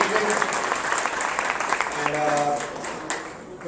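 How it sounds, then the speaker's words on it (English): An audience at a community cultural program applauds after a Natya dance performance, with dense steady clapping from a crowd in a hall that fades near the end as a voice starts speaking. "How about another round of applause for Natya students out there, everybody?"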